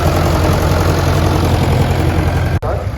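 A Perkins P3 diesel engine fitted in place of the original unit in a converted traction engine, running steadily at close range with a continuous low throbbing rumble and no speech.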